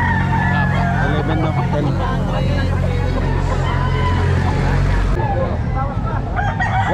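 A rooster crows at a busy poultry market amid constant chatter and bargaining voices, with a low engine drone underneath the whole time.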